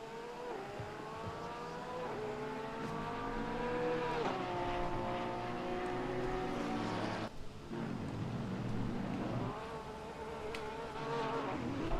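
GT3 race cars do celebratory donuts in the ACC racing game, several engines whining and revving up and down in rising, falling sweeps, close and continuous, with a brief dip in the middle.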